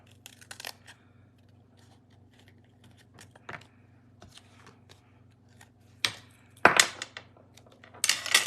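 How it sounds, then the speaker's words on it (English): Paper crafting scissors cut a small strip of paper, giving quiet, sparse snips and rustles at close range, with sharper, louder crisp cuts and paper handling toward the end over a faint low hum. "I need to actually cut a little strip of this."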